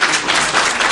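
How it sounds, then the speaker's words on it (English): Loud, dense audience applause at a World TB Day commemoration event, honoring a government minister, a brief burst of many people clapping together at an even level. "Another round of applause"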